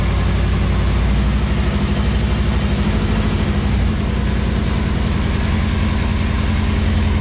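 A Kawasaki KZ650F motorcycle engine idles loudly up close, a steady, rapid low-pitched thrum with an even pulsing rhythm throughout, no voices over it.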